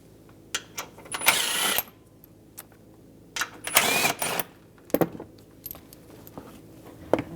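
A ratchet and 15mm socket work loose the lower shield bolts on a 2007-2014 Cadillac Escalade 6.2L V8, heard as bursts of rapid clicking ratcheting separated by short pauses and small metallic clinks.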